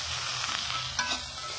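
Pirandai (adamant creeper) sautés with garlic and ginger in a pan, making a steady, close sizzle with a few soft stirring scrapes.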